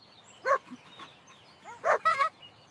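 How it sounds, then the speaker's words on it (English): A few short animated cartoon dog barks or yips, one early and a quick cluster of two or three near the end, with quiet gaps between. "This is a dog. Woof, woof."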